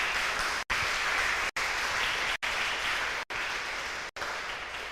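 Audience applause at the close of an Akademy 2023 conference talk: steady, moderately faint clapping from a crowd, continuous for several seconds with brief, regularly spaced dropouts.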